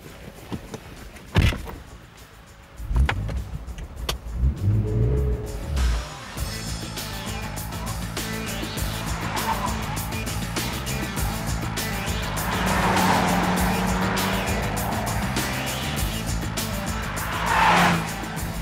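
Car driven hard near its limit, engine noise rising and falling, with tire squeal swelling in bursts toward the middle and end; occasional sharp knocks early on.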